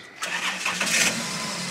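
A Chrysler car engine cranks briefly and catches, then settles into a steady idle, close and clear with no voices.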